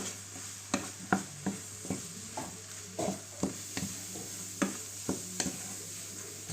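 Shrimp sizzles in a hot pan after salt is added, with a constant frying hiss under a series of sharp, irregular scrapes and knocks from a utensil stirring the pan.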